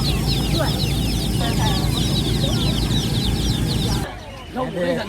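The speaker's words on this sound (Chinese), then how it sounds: "是小鸭子吧？" Many ducklings peep and chirp busily in a dense chorus close by at a rural market, cutting off abruptly, followed by a few quieter calls.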